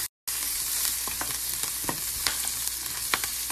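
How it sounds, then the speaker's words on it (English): Vegetables sizzle steadily in a hot frying pan on turned-down heat, with a dense crackling hiss and occasional small pops and stirring scrapes. "I turned it down some, so it shouldn't be frying too hard."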